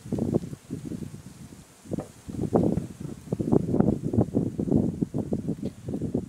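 Wind gusting outdoors on a farm where goats are being fed corn bran, a rough rustling roar that swells and fades in uneven surges and stays fairly close to the microphone.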